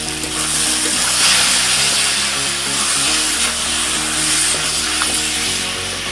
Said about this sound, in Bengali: এবার আমি একে একে হলুদ গুঁড়ো আদা রসুন বাটা লঙ্কা বাটা এগুলো সব দিয়ে ভালো করে কষিয়ে নেবো